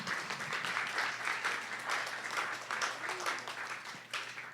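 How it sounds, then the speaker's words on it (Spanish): A church congregation applauds during a Bible study class, a fairly faint but steady patter of many hands clapping with a low hum underneath. "Denle un aplauso al Señor."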